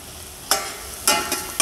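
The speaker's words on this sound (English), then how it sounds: "Saute it for some time" Celery, a bay leaf and peppercorns sauté in a pan for cream of tomato soup, with three short bursts of stirring and sizzle separated by near-silence, close and fairly loud, no voices.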